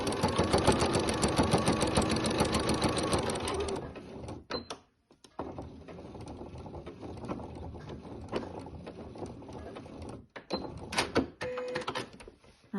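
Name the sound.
sewing machine stitching a bowl cozy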